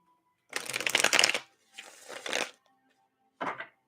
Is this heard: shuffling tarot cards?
yes